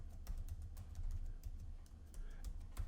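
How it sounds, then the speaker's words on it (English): Rapid keystrokes on a computer keyboard as a password is entered, a steady patter of close, light clicks over a low hum. "I'm going to type in password 1234 again."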